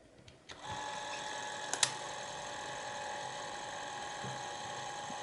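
A Zeiss-Ikon Movikon 8B film camera runs at 16 frames per second, starting with a click and settling into a steady, faint whirring mechanical hum with a couple of sharp ticks early on.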